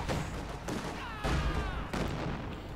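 Gunfire and artillery in the strategy game Company of Heroes 2, a dense rumbling barrage of booms and shots in repeated bursts, loud and continuous.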